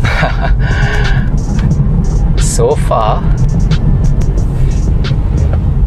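Ora Good Cat electric car in normal driving mode taking a corner, a steady low road and cabin rumble running throughout beneath continuous talk from the driver.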